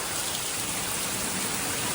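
Torrential rain pouring down during a flood, a dense, steady hiss of heavy rainfall with no breaks, loud and even throughout.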